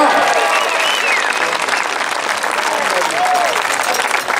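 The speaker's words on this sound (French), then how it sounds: "Allez, applaudissements." Loud crowd applause and cheering at a Trial World Cup event in Méribel, 2014, a continuous roar of clapping with whistles and voices running throughout.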